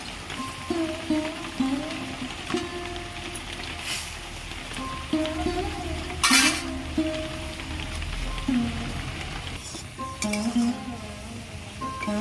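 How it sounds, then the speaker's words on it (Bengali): Fried mourola fish go into a simmering sour fish curry seasoned with salt and sugar, giving close bubbling and sizzling with occasional stirring clatters and a sharper splash in the middle, with no talking. "ফুটছে এবার আমি মোরালা মাছ ভাজাগুলো দিয়ে দেবো"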